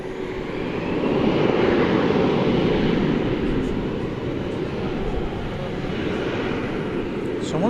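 A jet airliner roars down runway 18 Left at Dallas Fort Worth airport at night, a loud steady broadband engine rumble filling the whole stretch, with no voices.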